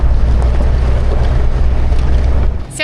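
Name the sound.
boat engine running during a trip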